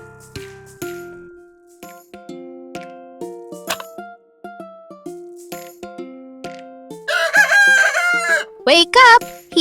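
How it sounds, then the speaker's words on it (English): A rooster crows twice near the end of a farm-animal piece for children, the loud cock-a-doodle-doo bursts rising over a bouncy tinkling melody that fills the first part. "Here is our rooster!"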